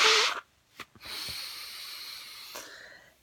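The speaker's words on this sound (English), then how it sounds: "I need to blow my nose." A person blows their nose in one strong, hissing burst at the start, followed by a couple of short sniffs and a long, softer airy exhale, close up with no talking.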